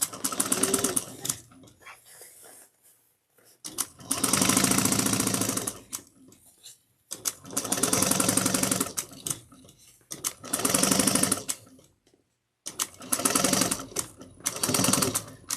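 Sewing machine stitching a tote bag's lining seam, running in several steady bursts of rapid mechanical whirring with short pauses between, close and loud, alone without talk.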